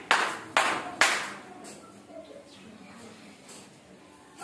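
Three sharp, deliberate hand claps ring out close up in a classroom counting activity, spaced about half a second apart, followed by quiet room noise with faint voices.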